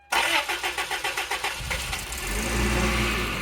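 A supercharged Toyota Previa engine with newly replaced fuel injectors cranks with a rapid even chugging of about a dozen beats, then catches and settles into a steady, rising idle rumble, close up.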